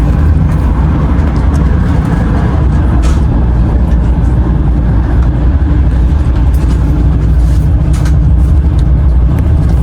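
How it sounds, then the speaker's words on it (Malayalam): A Soviet-era passenger train running between Bukhara and Khiva in Uzbekistan, its steady loud low rumble and rattle continuous and close throughout, no talk. "നല്ല രസമാണ് കേട്ടോ ഈ ഒരു ട്രെയിൻ ജേണി"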